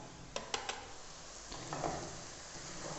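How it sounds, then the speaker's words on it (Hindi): Spices being stirred into dal with lady finger (okra) in a pan: a few quick spoon or spatula scrapes and knocks against the metal near the start, then softer stirring over a low, steady sizzle, with no talking. "अच्छे तरीके से मिक्स करेंगे।"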